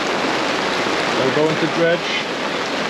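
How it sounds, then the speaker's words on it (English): Heavy rain pours steadily around a boat moored on a French waterway, a dense continuous hiss filling the background while someone talks briefly over it. "This rain can't last forever."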